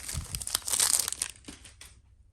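An early-1990s NFL trading card pack is torn open with crisp, close crinkling and ripping of foil wrapper, a dense burst that thins into a few scattered crackles before going quiet.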